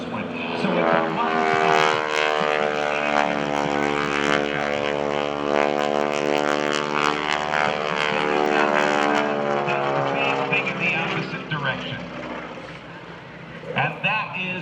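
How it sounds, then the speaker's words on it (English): A propeller airplane performing aerobatics at an airshow drones loudly and steadily, its engine pitch sweeping up and down as it maneuvers overhead through rolls and a Cuban 8, with no talking. "He'll let the airplane go upright."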